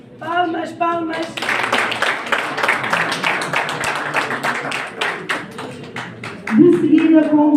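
Crowd clapping at a journalism diploma ceremony, a few seconds of lively hand claps set between voices speaking before and after.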